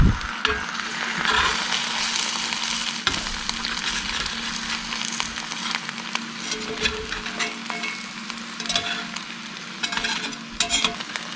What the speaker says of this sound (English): Get a little butter in the pan. I'm just gonna do over easy today with some toast.